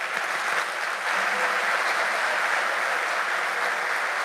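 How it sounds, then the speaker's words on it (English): At a university welcome event, an audience applauds for Elisa in Segovia with a sustained, even roar of many clapping hands, fairly loud and steady throughout with no voices standing out. "And finally, a good applause for Elisa back in Segovia"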